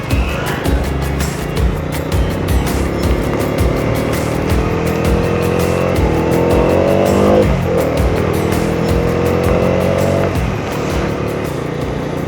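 A freshly serviced motorcycle rides along a monsoon road, its engine a loud steady drone that rises and falls in pitch through gear changes, with wind buffeting close by.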